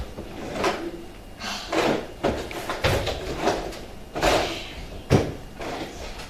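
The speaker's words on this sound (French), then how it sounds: "Allons fouiller les tiroirs du bureau." Desk drawers in an apartment slide open and shut with repeated wooden thumps and rummaging rattles, close and fairly loud, no voices.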